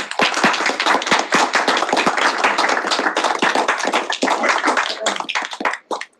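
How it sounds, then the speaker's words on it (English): Crowd claps for senators in a round of applause, a sharp, close burst of many individual hand claps, lively and uneven, tapering off quickly at the end. "Big round of applause for them, please."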